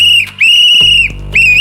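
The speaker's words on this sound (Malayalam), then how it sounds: "ആ വിസിൽ വർക്ക് ചെയ്യുക. അയ്യോ അടിപൊളി വിസില." A loud shrill whistle blown close by in two long sustained blasts separated by a short gap, with a brief rustle between and no talk.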